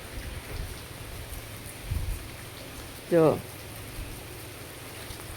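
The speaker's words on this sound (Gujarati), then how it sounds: "મસ્ત મજાનો જો ધીમે ધીમે ધારી વરસે હે મસ્ત મજાનો વરસાદ" Steady rain falls at a village home, a soft continuous hiss of drops with a person speaking briefly over it.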